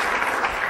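Weak applause from a seminar audience during a business-building talk, a brief, even patter of scattered hand claps with no voices over it.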